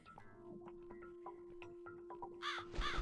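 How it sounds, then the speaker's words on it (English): A crow in the video game The Cat Lady gives a couple of harsh, fairly loud caws near the end, after a stretch of soft ticking and background game noise, with no talking. "It's a mysterious crow leading us to mysterious places."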